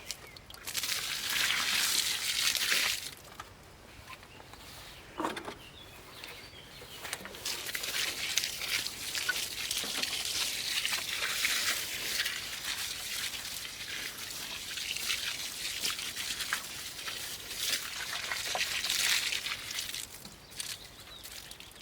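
Water poured over a sawdust compost heap, ten litres in all, splashes and trickles in several long bursts separated by brief pauses, with faint birdsong outdoors.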